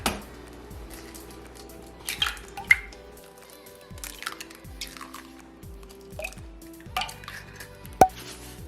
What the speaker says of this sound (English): you're gonna crack 3 eggs